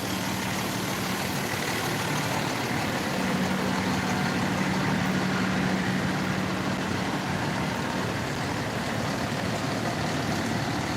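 A fire engine idles at the scene of a house fire in Eden Prairie, Minnesota, its steady, loud diesel rumble running unbroken and close with no voices over it.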